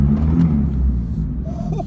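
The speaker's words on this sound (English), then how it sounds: "Let's listen to the car." A 2018 Honda Civic Hatchback engine runs at a steady idle, a continuous low rumble close by that fills the whole stretch without speech.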